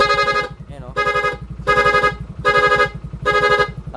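A weak motorcycle horn tested during a repair, sounding in four repeated bursts of roughly half a second each over a steady engine idle, close and fairly loud.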